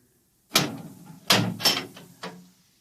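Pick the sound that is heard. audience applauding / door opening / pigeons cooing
door opening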